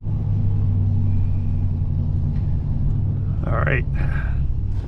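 A Pontiac's engine rumbles low and steady at idle before a burnout, with someone speaking briefly over it.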